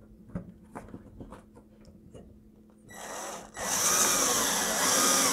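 An electric screwdriver drives screws into a drawer rail, a few faint clicks and taps first, then a short whir followed by a loud sustained high motor whine up close.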